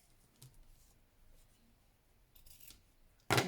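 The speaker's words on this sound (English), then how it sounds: "Give that one a little trim." Scissors trim paper for a craft tag, a few faint snips followed by one sharp, close cut at the end, with no talking.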